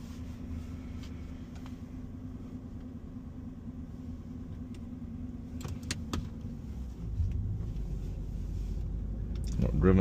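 A Jaguar XKR X150 sits idling with a steady low hum and a few key and cabin clicks, then its engine rumbles up louder as it pulls away, heard from inside the car.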